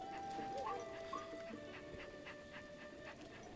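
A dog in Zelda: Breath of the Wild pants and gives faint whimpers, with short breathy puffs repeating steadily over sustained game music tones in the background.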